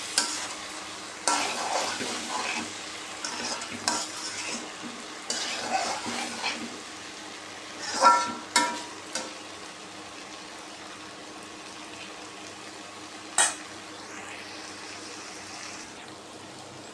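Okra bhindi bhaji fries in a pan while a spoon stirs it, bringing soft sizzling under several distinct scraping and clinking strokes against the pan, close and fairly quiet, with long pauses of low frying hiss between.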